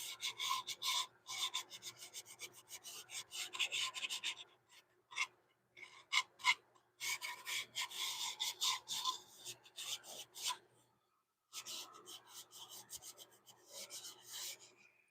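Cloth rubbing finish into a turned wooden bowl on a lathe, a close dry rasping and scrubbing in quick bursts with brief pauses between strokes.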